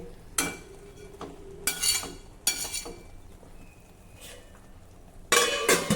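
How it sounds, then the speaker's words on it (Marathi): A spatula stirring and turning ridge gourd (gilka) as it cooks soft in a pan, with intermittent scraping and clinking strokes against the metal over a faint background hiss. "असंच अलटत पलटत आता आपल्याला अगदीच मऊ होईपर्यंत हे गिलकं शिजवून घ्यायचं आहे."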